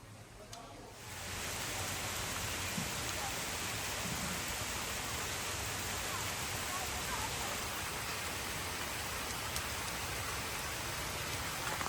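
Steady rain pours down on open ground during the monsoon, a dense even hiss that starts about a second in and continues unbroken to the end, with no voices.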